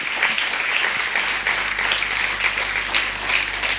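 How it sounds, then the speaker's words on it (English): An audience applauds a guest speaker, Dr. B.M. Hegde, at a talk on modern life and spirituality. The clapping is steady, dense and full-room, continuing without a break for about four seconds. "Please give me a big round of applause for Dr."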